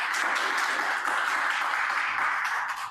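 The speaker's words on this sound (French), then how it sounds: "Applaudissez-le." Studio audience at a French game show applauds a new contestant, a steady dense wash of clapping that holds at full strength for about three seconds with no talk over it.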